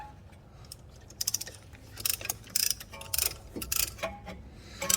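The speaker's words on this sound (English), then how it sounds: "we're gonna go ahead and compress the caliper. And so I have a tool that I can compress this guy with" A caliper compression tool pushes the piston back on a 2007 Scion tC front brake caliper, making a quick run of close, sharp ratcheting clicks over quiet background noise, with no speech.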